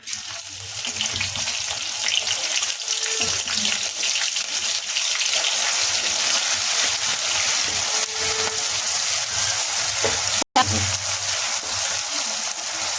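Ground masala paste frying in hot oil with curry leaves for a village-style chicken leg curry, a loud steady sizzle running throughout with a brief break near the end, occasional faint background sounds under it.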